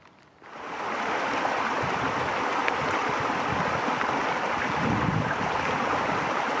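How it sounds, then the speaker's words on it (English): Creek water rushes steadily close by in the Superstition Wilderness, a broad continuous wash that swells in after a brief quiet start. "we got another creek crossing here"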